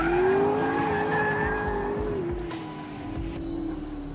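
A 916-horsepower McLaren P1 accelerates hard with traction control off, its engine roaring loud and close with a steadily rising drone while the tires squeal and skid throughout.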